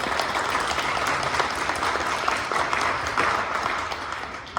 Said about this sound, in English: So a huge round of applause for the committee as well.